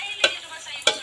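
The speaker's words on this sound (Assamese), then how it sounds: "5 মিনিট মান এনেকৈ আলু দি ফ্ৰাই কৰি ল'ব লাগিব" Potatoes frying in a pan, a soft sizzle broken by two sharp scraping stirs spaced well apart.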